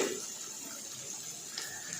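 Water poured into a pan of spiced masala for a South Indian fish curry, a steady soft hissing splash lasting throughout, fairly quiet and close, with no talking.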